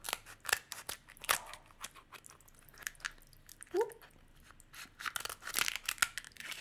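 Scissors snip repeatedly through kimchi ramen noodles and lobster tail, close and sharp, with small crunching and rustling between the cuts.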